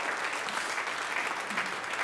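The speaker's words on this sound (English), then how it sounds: "Let's give them a round of applause." Applause from a church congregation at a Sunday worship service, a steady, dense clapping that fills the room evenly from start to finish with no voices over it.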